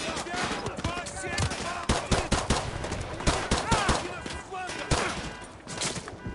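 Pistol fire in a Call of Duty match, sharp rapid shots cracking in quick irregular bursts amid other gunfire, moderately loud, with a voice speaking partway through.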